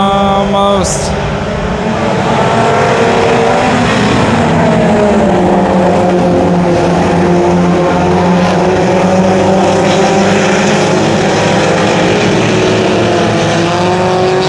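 Race cars roaring around the dirt oval at Brownstown Speedway during the Scott Patman Memorial, a loud continuous engine drone with shifting pitches as cars pass, heard alone without talk.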